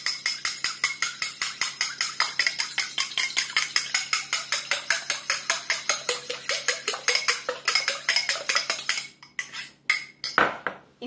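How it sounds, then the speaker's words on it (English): A single egg beaten lightly with a fork in a cup or mug gives a steady, rapid run of close metallic clinks and taps, fairly loud and evenly rhythmic, slowing into a few scattered knocks near the end. "1 egg, which I shall break into a cup or a mug, and I'm going to beat that up nice and lightly with a fork"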